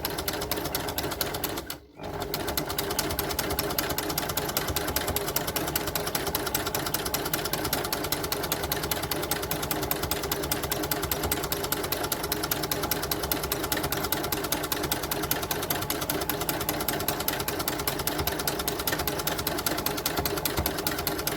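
Sewing machine stitching with a flower stitch foot, a continuous rapid mechanical whirr and clatter that runs nearly unbroken apart from one brief pause near the start.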